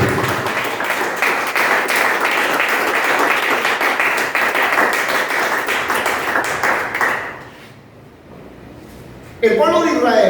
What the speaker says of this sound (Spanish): Brindle un fuerte aplauso al Señor.